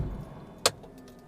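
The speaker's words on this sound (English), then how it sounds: "As soon as we turn off the car, I'll turn on the parking brake." A Ferrari's electronic parking brake engages with a single short mechanical whirr-click, close and distinct over a quiet cabin background.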